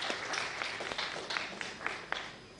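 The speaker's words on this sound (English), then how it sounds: "And I wish you all to applause for His Excellency." Audience applause for the President of Ghana, Akufo-Addo, at a West African power pool general assembly, a steady, moderately distant patter of many hands clapping without pause.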